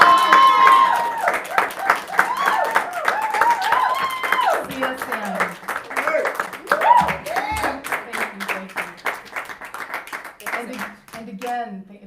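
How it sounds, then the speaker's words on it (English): A live studio audience at a talk show claps together, a steady patter of hands running for several seconds beneath continuous talking and fading toward the end. "I just want to ask the audience to invite me in giving you a warm round of applause"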